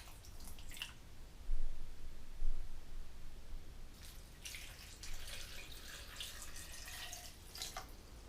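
Cold water splashing and pouring in short bursts, a faint trickle followed by louder gushes into a blender cup, with no talking.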